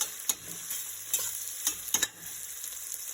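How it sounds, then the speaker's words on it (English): Chopped onion frying in oil toward light brown for a mushroom biryani: a bright, hissing sizzle punctuated by several sharp spoon scrapes and taps at irregular intervals, close by and without voices. "We have to fry this onion until it becomes light brown in color."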